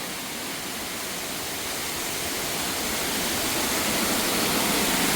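A waterfall on the Azores, Portugal, a steady, broad, loud roar of falling water that fills the air and swells slightly, with no voices over it.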